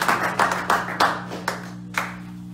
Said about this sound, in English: A round of applause for your idea